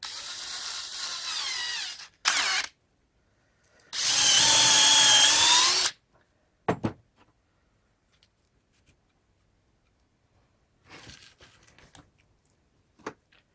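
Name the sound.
power drill boring into a wood log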